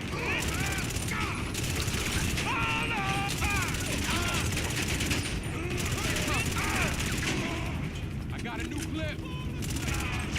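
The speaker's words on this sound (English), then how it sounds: "Mag dump." Rapid continuous gunfire empties a full magazine in GTA 5 Online, a dense rattling burst running for several seconds with short pauses, mixed with game effects and a voice talking over it.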